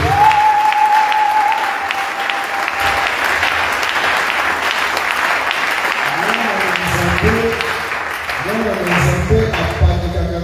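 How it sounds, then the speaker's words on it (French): A church congregation breaks into sustained applause, a loud dense clapping wash that fills the space throughout, with voices and singing rising over it toward the end. "Acclamez la bonne Seigneur"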